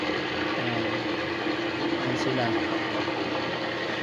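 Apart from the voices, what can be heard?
sewing machines running in a workshop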